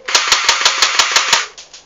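A gravity-fed Mini Defender airsoft BB gun fires eight loud, close, evenly spaced shots in quick succession, followed by a couple of fainter rattles as it stops.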